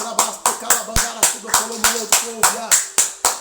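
Rhythmic hand clapping in a church, about twelve sharp, evenly spaced claps in a steady beat, close and distinct, with a voice faintly present between them.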